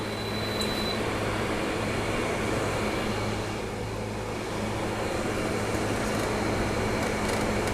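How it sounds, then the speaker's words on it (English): Sharp AF-S85RX window air conditioner running with its compressor engaged, a steady, close, continuous hum and whir with a low tonal drone, no talking. "All right, the compressor is on"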